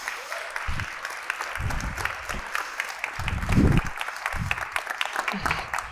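Audience applause after a storytelling talk, a steady wash of clapping from a room full of people, with low voices or murmurs breaking through at intervals.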